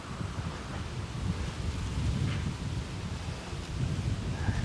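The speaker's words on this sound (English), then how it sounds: "we're contending with a lot of wind today" Strong wind buffets the microphone outdoors beside an old Victorian house, a continuous low rumbling roar with gusts that swell and ease, and no voices.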